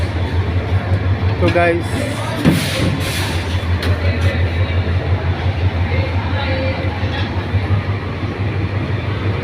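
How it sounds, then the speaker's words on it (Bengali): The Teesta Express pulls out from platform 4 of a station, a rumbling train with rhythmic wheel clatter and a brief horn over constant station noise, while someone talks briefly. "4 নম্বর প্ল্যাটফর্ম থেকে চলে যাচ্ছে।"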